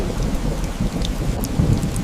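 A heavy rainstorm roars steadily with a low rumble of thunder throughout, a dense, loud storm sound effect with no voices.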